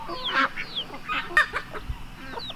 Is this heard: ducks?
yes